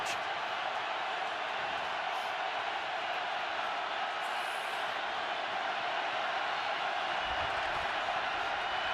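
The stadium crowd at Lambeau Field roars during a rain-soaked 2015 Bears–Packers football game, a steady, dense wall of distant noise that holds without a break throughout.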